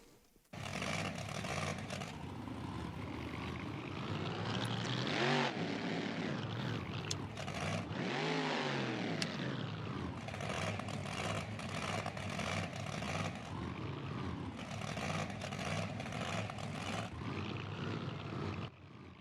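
A loud, steady monster truck engine drone in the BeamNG.drive video game, at low power in neutral, with rising and falling revs, rumbling continuously with occasional pitch sweeps and no voices.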